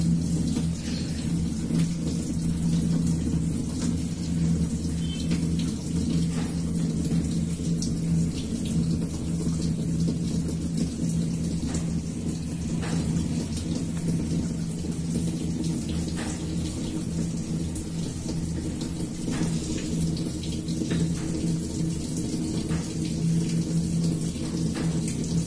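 Water pours steadily into the tub of an LG top-loading washing machine, a continuous low rushing and splashing that holds even throughout without pause.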